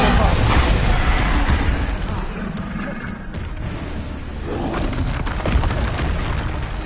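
Repeated Bombarda spell blasts from the Hogwarts Legacy video game, loud booming explosions layered over dense, continuous combat noise with a brief lull midway.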